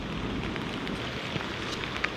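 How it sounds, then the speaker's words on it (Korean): Heavy rain pours steadily outdoors during a riverside fishing trip, a dense continuous patter with scattered sharper drops tapping nearby, no voices heard. "비가 많이 굵어졌어"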